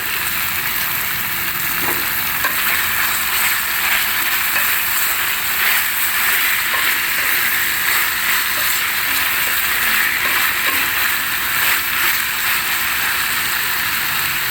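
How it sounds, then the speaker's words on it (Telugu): Capsicum masala curry sizzles steadily in a hot pan as it is stirred, a continuous dense frying hiss with faint scraping throughout. "ఇప్పుడు క్యాప్సికమ్ వేసేసుకొని కలిపేసుకుందాం ఒకసారి."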